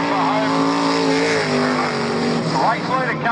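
Super Rods race cars lapping Sonic Speedway at Swan Hill, engines droning and revving loudly as several cars pass close by, with a race commentator calling the action over the top.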